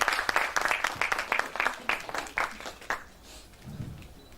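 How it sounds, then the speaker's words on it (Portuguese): Audience applause at a talk on strategic planning greets the presenter, a dense burst of many hands clapping for about three seconds before thinning out and fading into quiet room noise. "Uma salva de palmas."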